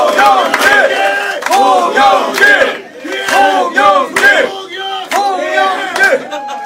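A large crowd of party members roars and chants rhythmically at a Democratic Party convention rally in Korea, the loud repeated shouts rising and falling in waves without pause.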